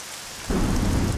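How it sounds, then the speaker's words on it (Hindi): Heavy rain pours steadily with a deep rumble of thunder that swells in partway through, loud and close, with no voices. "क्या बारिश है।"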